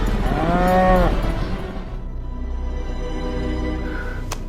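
Cows in a farm scene moo loudly with a long, drawn-out low call, followed by quieter ambient noise and a brief sharp sound near the end.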